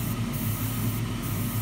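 An airbrush sprays a light mist coat of paint onto a 1:24 scale model engine at about 10 psi, giving a steady, close, continuous hiss with no talking.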